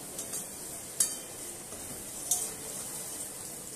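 Quiet sizzling and stirring in a pan as pre-fried, lightly spiced chicken goes into frying vegetables for chicken chow mein, with a couple of sharp utensil clinks against the pan.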